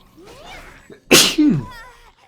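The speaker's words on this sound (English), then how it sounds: "Oh no, I have to sneeze." A single loud, close sneeze from a person during a video game session, preceded by a brief breathy intake and followed by a trailing vocal exhale.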